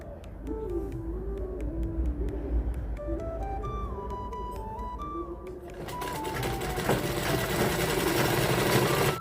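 A sewing machine stitches a waistband onto a petticoat made from an old nightie, running in a steady whirring drone with shifting mechanical tones, growing louder and harsher toward the end.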